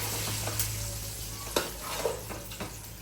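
Chicken fries with curry leaves and sizzles with a steady, close hiss. A few soft scrapes and clinks come through as the pieces are stirred and mixed, and a low hum runs underneath.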